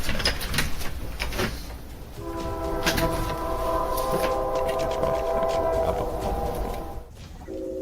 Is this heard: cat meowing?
no